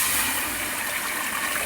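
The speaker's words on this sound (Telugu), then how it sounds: "ఇప్పుడు ఇందుకు సరిపడా వాటర్ యాడ్ చేసుకునేద్దాం" Water being poured into ghee rice masala in a pot, a steady close gushing pour that fills the whole short moment.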